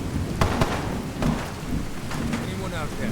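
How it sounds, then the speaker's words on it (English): Heavy thunderstorm with loud rolling thunder booming over steady rain, several cracks and rumbles rising through the few seconds, no voices. "Some proper thunder here."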